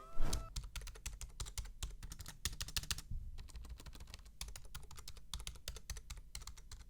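Rapid, uneven clacking of keys typed on a cheap 10-euro keyboard while playing Fortnite, close up and steady for several seconds with no talking.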